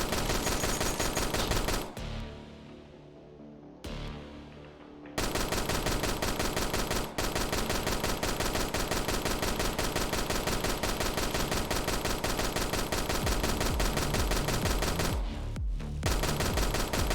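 Rapid video game gunfire rattles in long continuous bursts during testing, loud and close, broken by a couple of short pauses with no voices.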